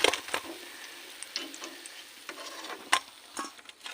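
Mirchi bajji, chili fritters, fry in hot oil with a steady close sizzle broken by sharp crackles and pops, loudest near the start and again around the three-second mark.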